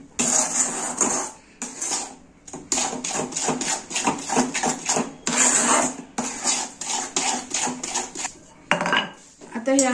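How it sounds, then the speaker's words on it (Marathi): A utensil scrapes and clatters against a metal pan while sesame filling for til papdi is stirred after the heat is turned off, a busy run of close, rhythmic clinks and scrapes with brief pauses. "हे हलवून घ्यायचं छान मिक्स करून"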